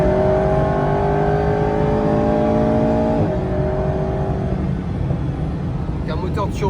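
An Alpine A110 R turbocharged engine revving up steadily on a circuit, its pitch climbing then dropping, with a faint whistle near the end; loud and close.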